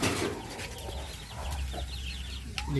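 Chickens cluck softly among newly hatched chicks in a backyard flock, faint and somewhat distant over a steady low rumble of background noise.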